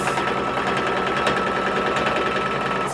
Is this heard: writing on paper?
no